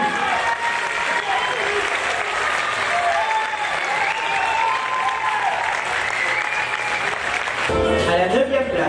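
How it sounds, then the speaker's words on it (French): Sustained audience applause at an IFBB bodybuilding competition semi-final, steady crowd clapping over the whole stretch with whistles and cheers mixed in, and an announcer's voice coming through near the end. "les applaudissements du public"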